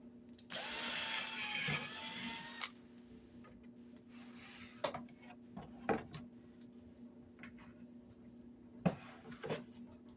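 A cordless drill whines in a short burst drilling holes in wood, followed by quiet scattered clicks and knocks in a faint background hum.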